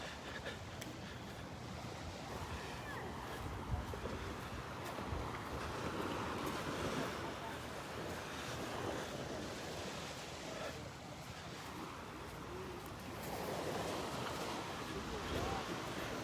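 Surf washing ashore at Delnor-Wiggins beach in North Naples, a steady broad wash of breaking waves with wind buffeting the microphone throughout, continuous and fairly close, with no clear voices.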